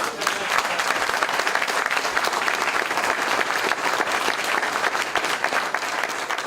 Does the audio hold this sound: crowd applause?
yes